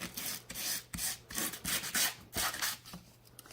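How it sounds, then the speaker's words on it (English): Sandpaper rubbed along the edges of a painted wood frame to weather it, a series of close, quick rasping strokes in an uneven rhythm, with no talking. "So you sand the edges up above and below."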